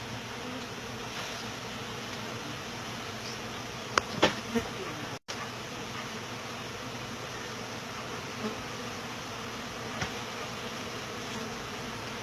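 Bees buzz in a dense, continuous drone during a live hive removal from a house soffit, with a few faint knocks and taps as comb is handled.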